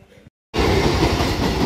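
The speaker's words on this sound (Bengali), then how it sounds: "ট্রেন যাচ্ছে।" Passenger train rushing close by on a sunny railside, cutting in after a brief silence as a loud, steady roar of wheels and carriages with rhythmic clatter, nearby and alone.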